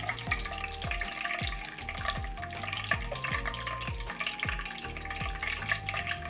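Tempering seeds frying in oil for a capsicum curry, a soft continuous sizzle with a faint rhythmic ringing tap repeating underneath, fairly quiet and close, without speech.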